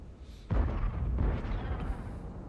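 A tank cannon shot in a tank video game strikes and bounces off enemy armour, a sudden loud boom with a long rumbling tail and a second fainter impact shortly after, no talk over it.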